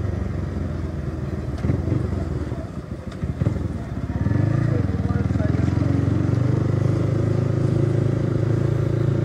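A Motorstar Cafe 150 motorcycle engine hums continuously up close on a provincial road, dipping briefly before settling into a steady louder drone; faint talk blends in beneath the engine.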